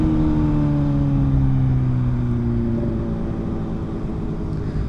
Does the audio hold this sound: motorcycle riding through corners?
yes